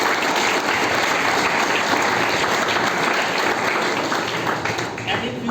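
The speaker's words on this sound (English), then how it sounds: "I request you all to have applause for the mechanical department." Audience at the inaugural function of an ATAL FDP on productivity enhancement applauds the mechanical department, a thick, sustained roar of clapping at constant volume that fades slightly near the end.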